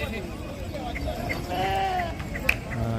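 Sheep bleating at the Gudur sheep market, several overlapping bleats from nearby animals over a steady murmur of people talking in the background.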